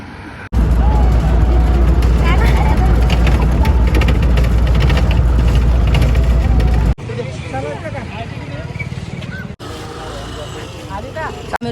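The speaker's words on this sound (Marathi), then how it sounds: "आता आम्ही रिक्षात बसलोय" Loud engine rumble of a small motor vehicle while riding, road noise and people talking over it, then the engine quiets as it slows.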